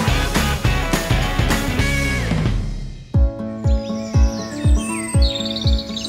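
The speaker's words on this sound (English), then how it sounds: "When you stand across the street, that's all you hear is this bird buzz." Chirping birds fill the air around a set of very large birdhouses, bright and busy at first, then thinning into repeated calls over a steady buzz.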